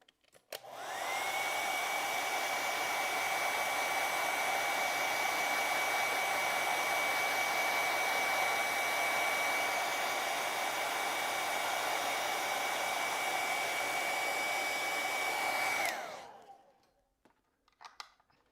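A hair dryer runs continuously for about fifteen seconds, drying acrylic paint on a bird painting with a loud, steady blowing whine, then shuts off and fades out.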